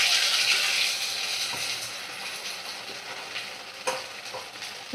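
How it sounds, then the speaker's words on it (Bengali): Gobindobhog rice being stirred and fried in a pan for khichuri, with a steady sizzle and frequent scraping stir strokes close by, plus a couple of sharper knocks of the spoon near the end. No one speaks. "2-3 মিনিট একটু ভাজা হয়ে গেলে আমি দেখো এই যে চালটা দিয়ে দেব,"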